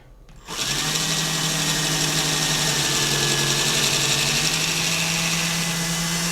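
After a brief quiet start, a case trimmer's cutter spins up on a brass cartridge case and holds a steady, close motor whine, with a thin scraping tone from the cutting.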